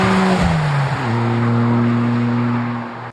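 2023 Toyota GR Corolla with a new track-only exhaust revving hard, a loud close growl whose pitch drops, then holds steady before cutting off abruptly.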